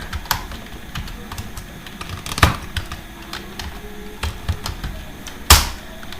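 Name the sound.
typing text on a computer keyboard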